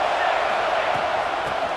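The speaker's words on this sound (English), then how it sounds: "This crowd rising up, sensing that its defense needs some help." Stadium crowd noise in a college football video game, a steady broadband roar of cheering fans that swells slightly, continuous and fairly loud throughout with no clear breaks.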